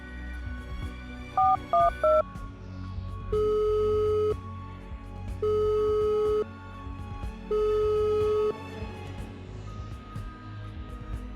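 Three quick dialing tones beep in succession, then a busy signal pulses three times in long, evenly spaced tones over a faint low hum.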